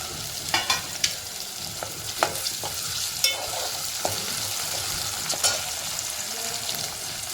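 Chopped onion and tomato sauté in hot oil with a steady crackling sizzle, broken by sharp scraping strokes of a spoon stirring the pan, close-up with no voices.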